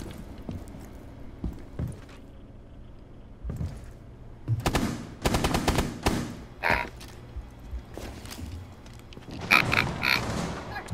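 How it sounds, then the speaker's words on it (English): Several short bursts of grunting, oinking pig noise from Tom Clancy's Rainbow Six Siege, mixed with thumps and clatter. "I hear a pig noise."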